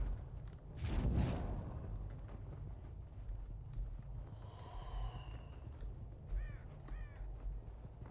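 Crows cawing in the horror game Dead by Daylight: a few faint, harsh caws late in the stretch over a low, steady ambient rumble, with no speech.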